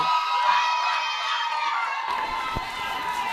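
Crowd at a Nevis secondary schools netball match cheering and shouting continuously, a broad steady roar with whoops, loud and close, easing slightly after a couple of seconds.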